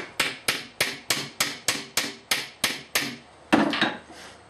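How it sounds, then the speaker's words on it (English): A ball peen hammer strikes a metal rivet about ten times in a steady rhythm, each hit sharp and ringing, loud and close, with a final heavier blow. "for the final bit, I use the ball peen part of the hammer"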